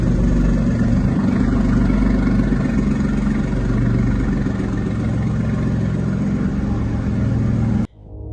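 A BMW i8 engine idles steadily with a deep, rough, tractor-like rumble at low RPM, loud and close, running unbroken until it cuts off abruptly near the end.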